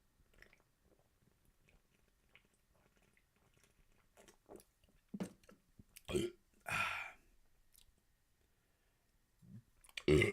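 A single throaty burp rises out of a quiet stretch of small mouth clicks and sips, close to the microphone.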